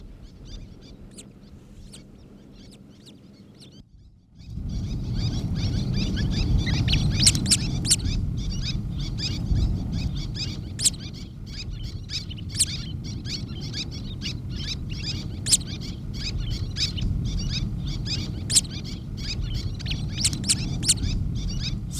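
Little tern chick calling for its mother on a sandbar in the Nakdong River delta, thin repeated high chirps at a steady rhythm over loud continuous wind or surf noise.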